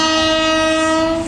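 A Vande Bharat sleeper train sounds a loud, sustained horn chord close by, with a steady rumble of rolling rail cars underneath that eases slightly at the end.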